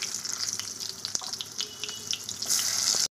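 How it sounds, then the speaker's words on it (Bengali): Pointed gourd (potol) dropped into hot oil for a Bengali thali, sizzling with a steady hiss and scattered crackles that swell louder near the end. "এবার ওই তেলের মধ্যে পটলগুলোও দিয়ে দেবো"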